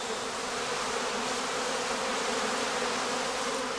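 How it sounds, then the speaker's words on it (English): Dense buzzing of many honey bees shaken out of a skep on heathland, a continuous close swarm hum without talk. "he shakes the rest of the bees out of the skep"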